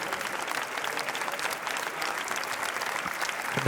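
Sustained applause fills a festival hall at Cannes, dense and steady with a crowd clapping throughout and no pause.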